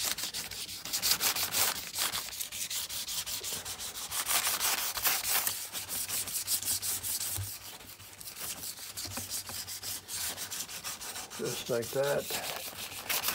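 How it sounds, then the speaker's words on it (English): Wet sanding burlwood-effect paint on quarter window trim from a 1948 Chevy Fleetmaster: continuous close, rhythmic back-and-forth rubbing strokes with brief pauses, and a voice speaks briefly near the end. "So I'm gonna wet sand this."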